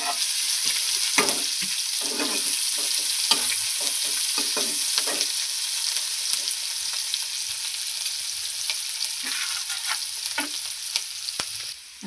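Chopped onions go into hot oil in a pan for an egg curry with potato and broccoli, hissing in a steady high sizzle over a long stretch, broken by frequent scraping stir strokes.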